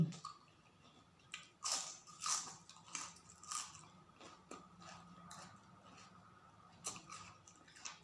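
Thai spicy pork sausage salad being eaten close to the mic, heard as a series of crunchy bites and wet chewing at an uneven pace, fairly quiet, with no talking.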